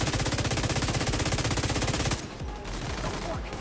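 Pestilence light machine gun in The Division 2 firing a rapid, sustained automatic burst for about two seconds, loud and close, then cutting off to quieter game ambience with faint distant shots.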